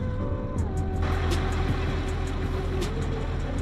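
A Case tractor engine in Farm Sim 25 starts up with a steady low rumble, a short rising whine near the start, then a settled, continuous idle at moderate level.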